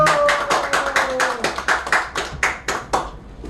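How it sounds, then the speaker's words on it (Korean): Hands clapping at a steady, roughly even tempo, about a dozen distinct claps close and fairly loud, with a faint tone lingering beneath the first half. "박수!"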